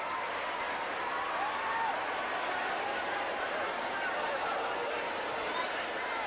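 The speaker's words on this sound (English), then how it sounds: "Crowd enjoying this one" A basketball arena crowd roars steadily through a professional game between the Manila Metrostars and the Cebu Gems. The dense wash of cheering never lets up, with a few whistles rising above it.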